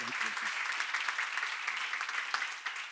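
A church seminar crowd claps together in sustained, even applause, loud and continuous throughout.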